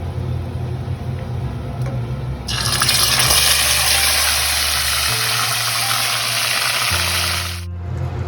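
Raw chicken hits a hot pan of spiced oil with cardamom and cloves, erupting into a loud, steady sizzle that swells and holds for several seconds before easing off, with no talking.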